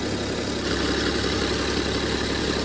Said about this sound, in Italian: motore in moto